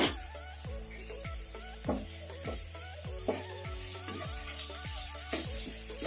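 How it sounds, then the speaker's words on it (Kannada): A spoon scrapes and stirs boiled green peas with salt in a bowl for chaat, giving a steady run of about a dozen rhythmic, close strokes over a soft background hiss. "ಈಗ ಇದನ್ನ ಕಲಸ್ಕೊಂಡ್ಬಿಡೋಣ"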